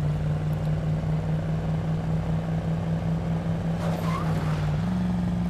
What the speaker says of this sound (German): Das Auto ist schon echt laut, muss man sagen.